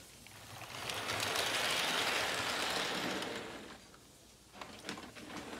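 HO scale model train running on its track, a soft continuous mechanical whirr and rattle that swells and fades as it passes, with faint clicking afterward; no talking.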